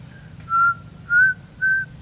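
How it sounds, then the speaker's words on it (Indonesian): Three short, clear whistled notes from a person, evenly spaced with brief pauses between them, over a faint low background hum. "Ini contoh seperti ini bersiul."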